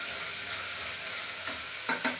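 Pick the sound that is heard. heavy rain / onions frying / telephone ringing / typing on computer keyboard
onions frying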